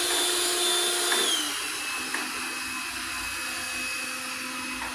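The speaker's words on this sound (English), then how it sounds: "you can hear it quite loud there now. It boosts automatically for carpet, the suction." A Kogan LX16 self-emptying robot vacuum running with boosted suction on carpet, a steady loud whirring motor drone that dips slightly in pitch partway through.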